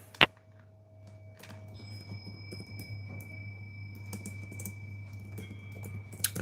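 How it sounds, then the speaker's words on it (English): Computer keyboard typing, quiet and close, with soft irregular key clicks over a steady low hum and a few faint tonal beeps in the room. "I'm just typing out"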